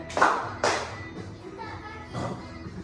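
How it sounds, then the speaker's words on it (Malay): Hands clap along to a children's action song, two sharp claps near the start and a softer one later, close and fairly loud with faint background noise between. "Kalau rasa gembira tepuk tangan."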